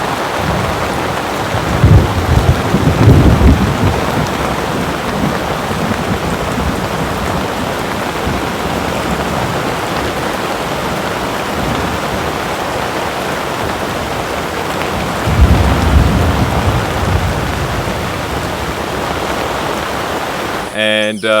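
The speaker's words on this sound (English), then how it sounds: "We had a tropical storm come through here." Heavy tropical storm rain pours steadily throughout, with deep rolling thunder swelling near the start and again about two-thirds through; no talking.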